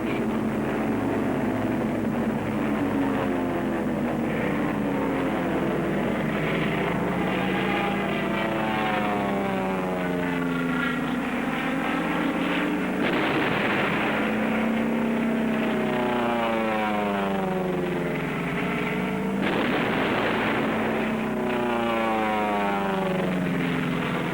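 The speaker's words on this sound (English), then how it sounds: "The support air director contacts carrier planes circling the target." Wartime carrier planes, propeller aircraft circling over a target near Suribachi, drone continuously in a loud, wavering roar whose pitch rises and falls over old film audio.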